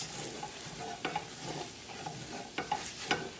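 Thickener stirred into a creamy baked potato soup in a pan greased with bacon: soft, repeated spoon scrapes and light clinks against the pan over a faint sizzle, close and quiet, with no speech.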